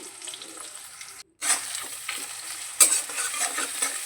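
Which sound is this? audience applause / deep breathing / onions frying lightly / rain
onions frying lightly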